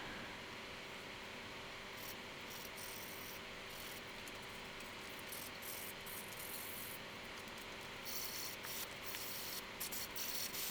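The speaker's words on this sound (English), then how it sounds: "I do end up sanding most of it off" Steady abrasive rubbing of sandpaper against stained turned wood, a continuous scratchy hiss close by that swells a little louder toward the end.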